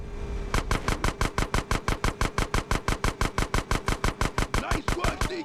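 Automatic gunfire in GTA San Andreas shoots out a gate in a sewer tunnel: a long, rapid, evenly spaced burst of about thirty sharp, loud shots, close and unbroken, with no talking over it.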